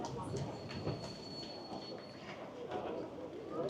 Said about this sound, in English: So it's a very busy train station.